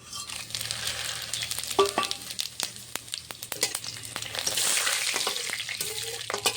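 Whole spices, black and green cardamom and cinnamon, frying in hot mustard oil in a wok, a continuous close sizzle with frequent spatter pops and stirring clicks, swelling louder toward the end.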